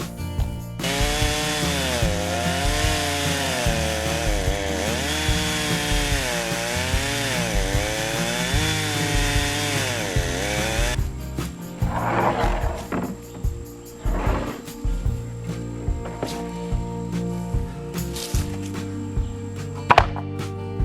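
A chainsaw with a 24-inch bar runs steadily while milling a log, a loud continuous engine drone with wavering pitch, shifting partway through to a rougher, uneven cutting sound with intermittent knocks.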